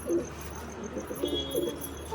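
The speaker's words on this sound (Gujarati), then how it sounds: "બાકી કબૂતર જો અંદર મસ્તીમાં આવી ગયા છે" Pigeons coo in low, throaty bursts from a loft or coop, a soft rolling call near the start and another longer run after the midpoint, with faint chirps and steady background hum.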